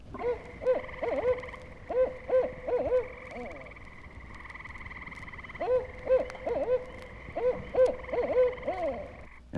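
A barred owl calls from dark evening woods in Sapsucker Woods in two bursts of eerie, rhythmic, throaty hooting phrases, separated by a quiet gap, over a steady high insect drone.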